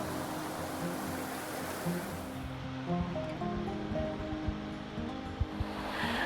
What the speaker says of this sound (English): look at the water flowing